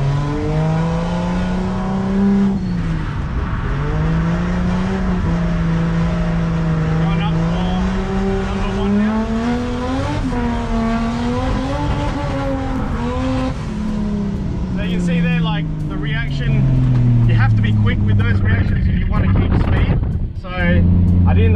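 A car drifts around a tight 180-degree hairpin with the engine revving, its note swooping up and down repeatedly, someone talking over it, and tire squeal and rising revs toward the end.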